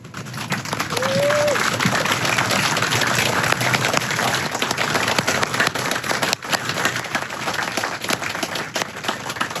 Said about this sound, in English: join me in a round of applause to recognize Mr. McGay for his service to our country